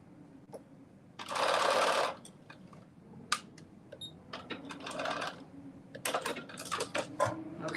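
A sewing machine stitches a short back stitch on a fabric bonnet, a loud close mechanical whir for about a second, then uneven clicks and taps, a second softer run of stitching and more clicking.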